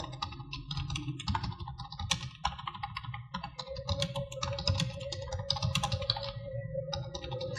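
Computer keyboard typing in Microsoft Word 2016, keys clicking in steady quick bursts close to the mic, with short pauses between runs of keystrokes and no talking.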